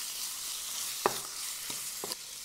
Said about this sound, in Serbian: Dok se džigerica prži,